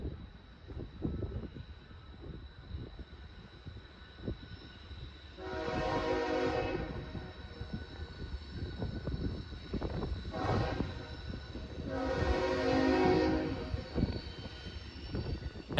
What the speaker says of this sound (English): NS 18K was making its way around the curve on track 3 with a solo ES44 AC on the head